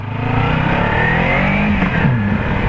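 Kawasaki Ninja 300 motorcycle riding through a gravel-strewn roundabout at roadworks, its engine droning loud and steady up close with shifting pitch and a brief rise near the end.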